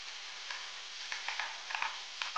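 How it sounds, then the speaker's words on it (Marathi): Spoon stirring sabudana khichdi with yogurt and peanut powder in a pan, soft scraping and light sizzling with small irregular clicks, close and fairly quiet, no talk. "दाण्याचा कूट आपण याच्यामध्ये ॲड करून घेणार आहोत आणि व्यवस्थित आपल्याला हे मिक्स करून"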